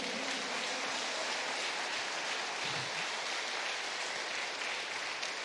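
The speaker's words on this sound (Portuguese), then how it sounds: "Aplauda Jesus, irmão." Steady applause from a congregation at a church service, a dense even patter of clapping that holds at the same level throughout, with no talking.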